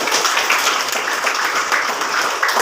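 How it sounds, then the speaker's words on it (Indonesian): A classroom group claps for a student in an Indonesian school lesson, a steady wash of hand claps, dense and even throughout. "Tepuk tangan buat Dita."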